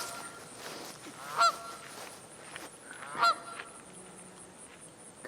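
Geese honking in the distance, two distinct honks a couple of seconds apart over a quiet outdoor background.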